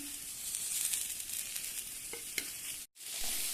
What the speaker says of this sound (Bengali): ডাটাগুলো দিয়ে একটু নাড়াচাড়া করে নিয়েছি